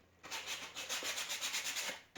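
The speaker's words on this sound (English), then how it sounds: "I just have to finish sanding this last one" Steady back-and-forth sanding strokes, a rhythmic raspy scrubbing repeated about a dozen times, close by with no talking.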